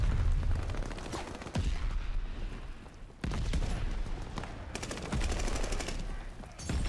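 Rapid gunfire from a shotgun in Call of Duty Vanguard, loud, close blasts fired in bursts with short pauses between them.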